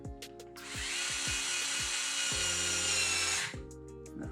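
A power screwdriver drives a screw while a Traxxas TRX4 Sport RC truck is being reassembled, a close, steady motor whine lasting a few seconds between short clicks and handling noises.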